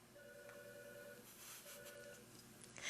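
A telephone rings faintly in the background of a quiet indoor room, two separate rings about a second apart, distant and soft.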